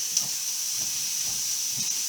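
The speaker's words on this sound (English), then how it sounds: "I love that sizzle." Meat sizzles in a hot cast iron skillet with a steady, close hissing crackle throughout and faint soft thuds underneath, with no talking.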